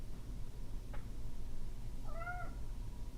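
A house cat meows once, a clear rising-and-falling call, against a low steady room hum indoors during a portrait painting session, with a faint brief tick just before it.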